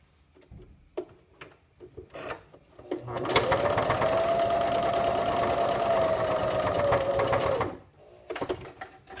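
Sewing machine top stitching along a folded fabric edge while making accordion tabs: a steady, even run of rapid needle ticks lasting about four seconds, with brief handling noises before and after.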